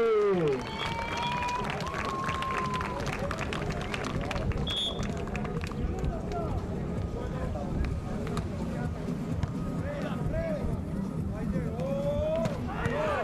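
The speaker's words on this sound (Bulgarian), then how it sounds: "Давайте, пляскаме" Spectators at an outdoor tennis match, a third-place match at the Sveti Vlas Futures tournament, applaud in a steady patter of many hands while a commentator talks over it.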